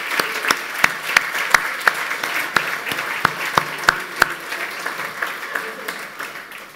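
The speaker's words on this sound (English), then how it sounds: "could I please have a round of applause for the judges who did it their time" An audience applauds the awards judges at an opening speech, with steady, full applause from a room of people and sharp individual claps standing out throughout.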